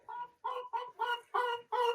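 Chickens kept inside a greenhouse during subzero snowy weather, clucking nearby in six short, evenly spaced bursts against a quiet background.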